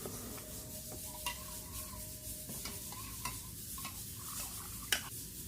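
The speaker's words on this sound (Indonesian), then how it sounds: "ini agak kita aduk-aduk sedikit, nggak apa-apa begini, pakai sendok" A spoon stirs carrot pickle brine inside a metal jar, giving quiet, irregular scrapes and light metallic clinks over a soft hiss, with no talking.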